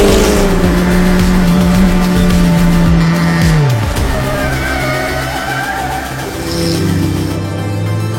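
A race car at the GP Explorer event revs and downshifts on track, engine pitch sliding lower, with tire noise and a loud continuous roar close by.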